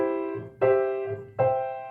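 Piano chords struck three times in a slow, even rhythm, each ringing clearly and decaying before the next, with no voices over them.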